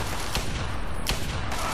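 Gunfire in the video game Fallout 3, two sharp shots about three quarters of a second apart over a loud, noisy game background, with no voices.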